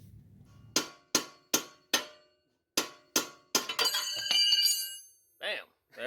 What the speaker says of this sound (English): we're gonna wedge the ball joint separator fork in there and hammer it and separate this ball joint